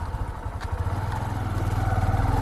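A motorcycle idles steadily at close range outside a housing society, its low engine rumble holding an even, continuous pulse with light clatter and no talking.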